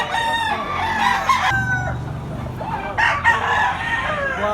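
A big bullstag rooster at a market in Tabunok, Cebu crows loudly and close, with several overlapping cock-a-doodle-doo calls and clucks over busy market chatter.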